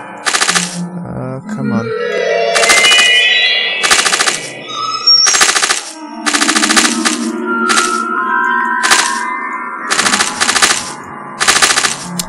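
Loud rapid machine-gun bursts from the video game Cyberia 2, repeated short volleys separated by brief gaps over a synthetic musical score, with a voice briefly speaking.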